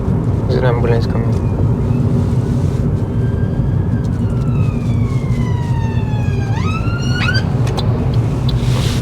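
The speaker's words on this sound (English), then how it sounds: "There's an ambulance coming." An ambulance siren wails through heavy road noise heard from inside a car in traffic, its rising and falling tone sweeping steadily and growing more prominent over the steady engine and tyre rumble.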